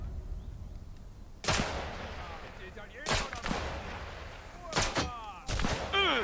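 Sniper rifle shots in the video game Sniper Elite 5, four loud sharp blasts spaced a second or two apart, each with a rolling echoing tail, over a low ambient game background.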